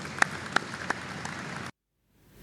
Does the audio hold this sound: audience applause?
yes